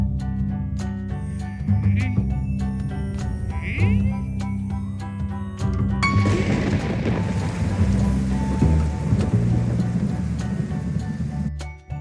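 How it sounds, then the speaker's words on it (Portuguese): Rainstorm with steady heavy rain and rolling thunder, a dense continuous wash of rain with rumbling low thunder throughout and a brief sharp crack near the end. "A rainstorm is a bunch of clouds, rain, thunder, and lightning."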